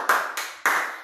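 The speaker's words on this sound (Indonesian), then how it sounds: "Tepuk tangan ke Eti kita masa-masa." Three sharp, separate claps from schoolchildren in a primary-school classroom, ringing close and loud with short gaps between them.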